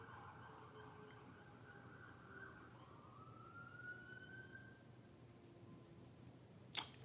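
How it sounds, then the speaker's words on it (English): Emergency vehicle sirens wail outside, faint and distant, one rising and falling tone drifting over a low background hum, ending with a brief sharp click. "those sirens coming in heavy"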